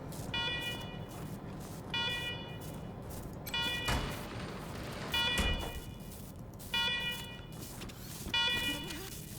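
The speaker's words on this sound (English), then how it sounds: "let's talk after you kill the alarms. I can hardly hear myself think" Alarms blare in the Wasteland 3 video game, a repeating electronic tone pulsing in regular bursts with short gaps, loud and continuous against a low background rumble.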